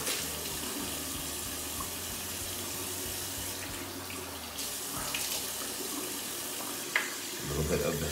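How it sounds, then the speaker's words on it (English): A bathroom tap runs steadily into a sink while someone washes their face, a continuous close splashing hiss with small changes as hands move through the stream. "Wash my face with water that's not too hot."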